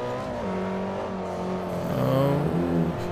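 A Mitsubishi Evo X GSR race car engine in Forza Motorsport 4 drones loudly under load, its pitch dipping and rising through gear changes, with a hint of tire squeal near the end.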